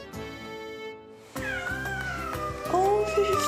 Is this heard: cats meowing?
yes